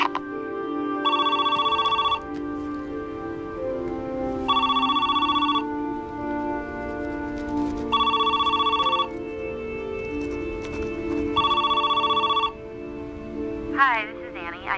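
A telephone bell rings in four regular, loud bursts separated by pauses, followed by a brief electronic chirp at the end.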